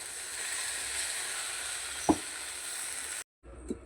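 Egg frying in a pan with black pepper and tomato sauce for rice, giving a steady soft sizzle and hiss throughout, with a brief clink partway and a short cut near the end.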